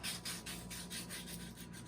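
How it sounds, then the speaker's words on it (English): Rhythmic back-and-forth rasping of sandpaper hand sanding around the holes of a wooden candle votive holder, close up and quiet, about eight even strokes in quick succession. "just doing a little tedious hand sanding around the holes themselves"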